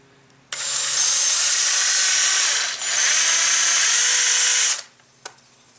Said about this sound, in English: You want to drill at an upward angle, but make sure you do not go through your mount